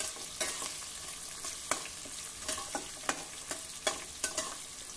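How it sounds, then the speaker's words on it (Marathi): Onion and carrot sauté in a pan with a steady soft sizzle, and the spoon scrapes and clinks against the pan at irregular intervals. "आता हे जरा मऊ होईपर्यंत आपल्याला परतायचं आहे।"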